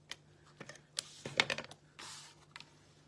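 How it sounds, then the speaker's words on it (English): Tape pulled and pressed onto a paper card during card making: a few short crackling strips and taps, close and fairly quiet, with a sustained tearing rasp near the end and no talking. "So we'll put some tape on there like that."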